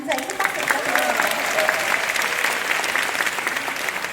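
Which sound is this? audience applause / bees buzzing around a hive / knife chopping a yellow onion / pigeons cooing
audience applause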